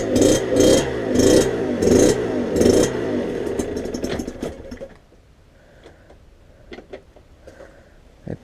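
A warmed-up motorcycle at home, Euro 4 standard, starts and revs in loud, rhythmic bursts for about three seconds, then settles into a quieter, uneven idle with occasional faint pops and knocks.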